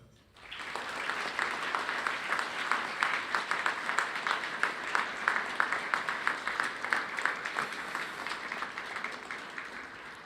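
A graduation ceremony audience gives a round of applause for a college trophy winner, dense sustained clapping that starts suddenly and carries on steadily for about ten seconds, fairly distant and even.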